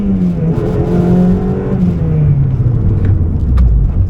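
A Honda Civic coupe with a K24 engine swap pulls hard from inside the cabin, its loud engine tone climbing steadily then dropping as revs fall, with a deep rumble throughout.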